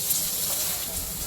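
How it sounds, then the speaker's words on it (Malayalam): Hose water splashing over a cow in a cowshed, a steady close hiss of running water, brief and fairly soft. "നമ്മൾ പശുവിനെ കഴുകിക്കൊണ്ടിരിക്കുകയാണ് കേട്ടോ"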